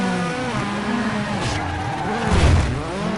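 A rally car in WRC 6 slides under handbrake on a stage, engine roaring with a rising skid and tire scrub swelling near the end, loud and close with no talk.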